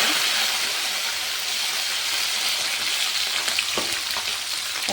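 Mustard seeds, cumin and slit green chillies fry in hot oil for tomato kootu, a steady dense sizzle and hiss running throughout with a few faint crackles and pops near the end.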